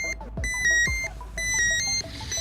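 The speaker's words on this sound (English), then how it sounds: "and the unit will alarm." Slab movement monitor alarm beeping in a rapid repeating pattern of high, bright tones, loud and continuous with brief gaps.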